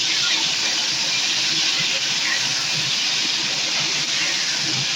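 Pointed gourd (potol) frying in a partly covered pan makes a steady, dense hiss of oil and steam, heard close and constant throughout, with no clear voices.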